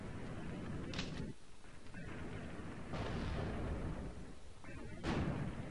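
Grenade blasts in the 1990s shooter game Alien Trilogy, several booming detonations with heavy low rumble and crackly tails spaced a second or two apart, loud and close, with a voice talking over them.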